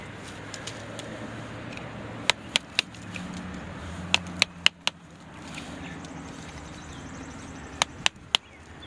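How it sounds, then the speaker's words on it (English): Sharp hammer blows knock at a tough bark plate to loosen it, roughly a dozen distinct strikes spread irregularly over a low steady background hum, some in quick pairs, fairly near. "It's a little bit tough, so you got to use your hammer, loosen it up."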